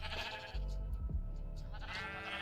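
A sheep bleats in the block-building game Minecraft, a clear, wavering bleat heard close up against game background sounds and a low rumble, with no talk over it.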